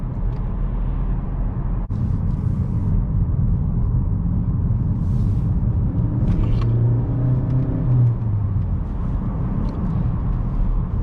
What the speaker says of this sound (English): There's still a bit of tire noise in this car,